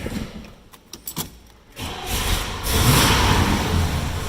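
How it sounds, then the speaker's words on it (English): 1970 Chevrolet Chevelle SS 454 tribute cranking in a few short bursts, then catching and settling into a loud, steady idle close by. "Let me fire it up here for you"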